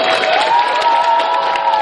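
A crowd at an anime convention claps and cheers, a continuous close wash of hands and murmuring voices that holds at an even, fairly loud level the whole time.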